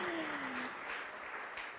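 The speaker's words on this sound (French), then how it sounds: "On applaudit très fort Lina." Short burst of audience applause at a live pitch event, a soft continuous patter of clapping with a brief tonal sound at the start.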